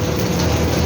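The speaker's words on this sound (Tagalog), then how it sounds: "Maulan na panahon." Steady rain falls on a wet morning, a dense, even wash of hiss that fills the whole second without pause and with no voices.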